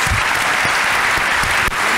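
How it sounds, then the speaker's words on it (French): Dense, loud applause from an audience at a student prize ceremony, steady clapping filling the whole two seconds without pause. "accueillir sous un tonnerre d'applaudissements Alice"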